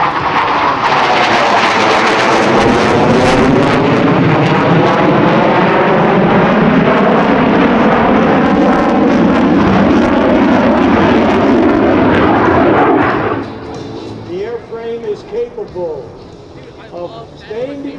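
An F-15C Eagle fighter makes a loud afterburner pass at an air force base air show, a roaring, ripping blast that holds for about thirteen seconds before dropping away, with an announcer's voice over it.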